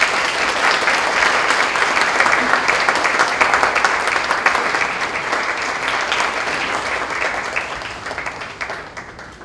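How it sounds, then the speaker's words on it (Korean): An audience at an ICT development forum applauds warmly as the keynote speaker comes out, a dense, loud wash of clapping that gradually thins and fades over several seconds. "하성민 대표님 나오실 때 뜨거운 박수로 환영해 주시기 바랍니다"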